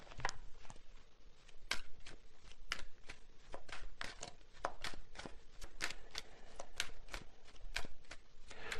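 Tarot cards riffled and shuffled by hand, a steady run of crisp, close snapping bursts with soft papery rustle between them, no voices.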